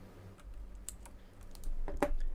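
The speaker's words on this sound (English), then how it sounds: "What keyboard do I have? I have a Razer Black Widow Chroma V2" Keys clacking on a Razer BlackWidow Chroma V2 clicky mechanical keyboard, a few scattered quiet clicks building to a brisker cluster near the end, close and fairly faint.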